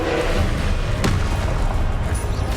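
A Confringo blasting spell in Hogwarts Legacy lands as one sharp, booming impact about midway, cutting through a loud, steady rumble of combat noise with no talk.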